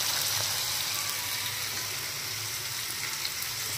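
Capsicum, tomato and onion frying in a pan, a steady close hiss and sizzle with no talking.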